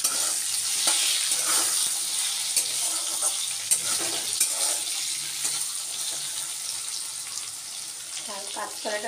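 Raw banana pieces frying in oil with turmeric and salt give a bright, dense, hissing sizzle with stirring clatter, steady and close throughout with no talking.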